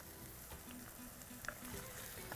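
Drumsticks and green chillies fry in a pan with a soft, quiet sizzle and a few light clinks of a spoon stirring.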